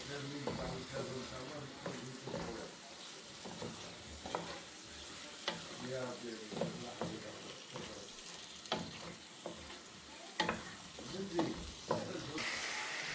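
Seafood with spices stirred and sizzling in a frying pan for paella, soft scraping strokes repeating over a constant frying hiss, close and fairly quiet.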